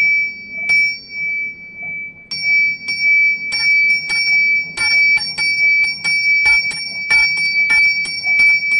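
A small bell installed in a tower (bell no. 2) rings in repeated bright strokes, starting sparse and speeding into a steady, fairly loud peal with a sustained ringing tone throughout.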